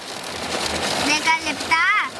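Heavy rain falling in sunshine on olive trees in Greece, heard as a dense, close patter while a voice makes high, sliding exclamations over it.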